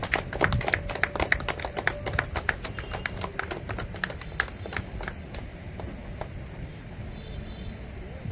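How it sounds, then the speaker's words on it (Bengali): An audience of students and guests claps at a school Rabindra Jayanti celebration just after the ceremonial lamp lighting. The claps come as quick, uneven, close bursts that thin out and fade toward the end. "সবাইকে করতালি দিয়ে দিতে অনুরোধ করছি"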